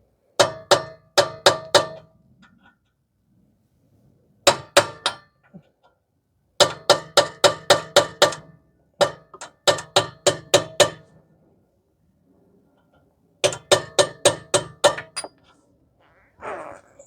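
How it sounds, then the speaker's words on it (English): A hammer strikes a chisel in quick bursts of sharp, ringing metallic taps, knocking out an exhaust stud on a 2015 Toyota Sienna 3.5 V6, several blows per burst, separated by short pauses. "Grab yourself a chisel and a small hammer to knock it out."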